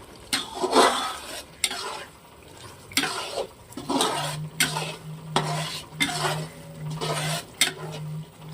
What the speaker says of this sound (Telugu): ఒక 2 seconds ఇట్లా కలుపుకుంటూ వేడి చేసుకోవాలి